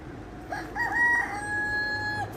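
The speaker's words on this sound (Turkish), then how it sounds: "Horoz sesi de gayet güzel." A rooster crows once nearby, a clear drawn-out cock-a-doodle-doo over a quiet outdoor background.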